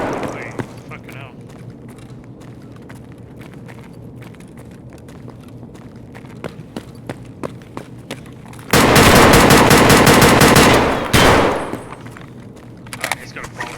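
Gunfire in the video game Escape from Tarkov, involving a bolt action rifle: scattered faint sharp reports, then a loud, dense burst of firing lasting a couple of seconds, followed by a few more isolated cracks.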